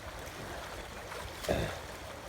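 A river flows in a steady broadband rush while children wade across it, with a brief louder swirl of water midway and no voices.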